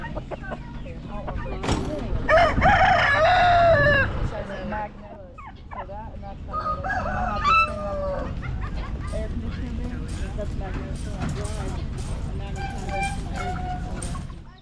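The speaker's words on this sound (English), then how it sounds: "A hen and 11 babies." A hen with eleven chicks at a poultry auction clucks, and chicks peep in bursts, among other birds and a busy crowd of nearby voices talking throughout.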